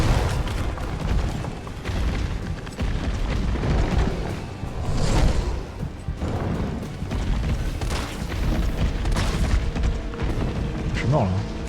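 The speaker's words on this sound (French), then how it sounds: "Mais ça explose au bout d'un temps." Explosions and combat from the video game Resident Evil 3 rumble under someone talking in French, with heavy low booms and bursts recurring through a dense, loud game soundtrack.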